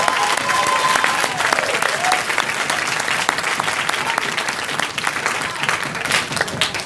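Loud crowd applause at a conference, dense clapping with scattered cheers and whoops, sustained and close for several seconds.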